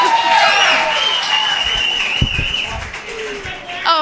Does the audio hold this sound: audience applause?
yes